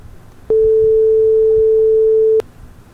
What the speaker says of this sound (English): The sine wave, I'm going to give you a preview at 440 hertz.